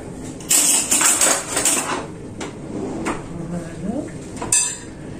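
Metal spoons clink and scrape against a bowl while scooping semolina batter into small heaps for semolina patties, a few close, fairly loud knocks scattered among softer kitchen clatter.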